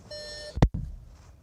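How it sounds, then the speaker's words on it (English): Inside a 2017 Seat Toledo 1.0 TSI, a high electronic tone holds briefly, then a sharp short beep cuts through, followed by quiet background noise. "Sorry about the beep."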